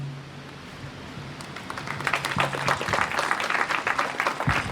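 Graduation ceremony audience applauding the standing parents of the class of 2025, clapping starting softly and swelling into a dense, steady round of applause from a large crowd.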